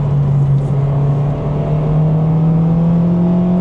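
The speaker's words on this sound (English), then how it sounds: "VTEC, there it is." Inside a JDM Honda Civic Type R, the engine drones loud and close, its pitch climbing steadily as it revs into VTEC. No voice is heard over it.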